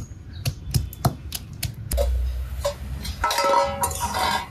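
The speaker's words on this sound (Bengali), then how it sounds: "পাটাতে রসুন নিয়ে শিল দিয়ে একদম ভালোভাবে থেতলে নেব।" Garlic is crushed on a flat stone slab with a grinding stone, giving a series of sharp, irregular knocks and thuds followed by a brief gritty, rattling scrape, close by.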